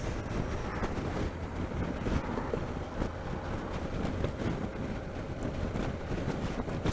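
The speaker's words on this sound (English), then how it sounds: "It's windy out today." Steady wind blowing outdoors, buffeting the microphone with continuous low rumble and gusty broadband noise throughout, loud and close with no talk.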